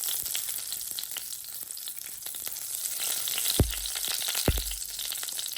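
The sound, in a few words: mustard seeds, fenugreek and cumin sizzling in hot oil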